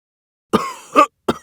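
A man with a worsening cough clutches his chest and coughs three times up close, a long rasping burst followed by two shorter ones.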